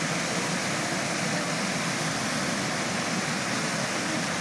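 Waterfall at Fossil Creek, Arizona, pouring into a swirling pool: a steady, loud, broadband rush of falling water filling the scene without a break.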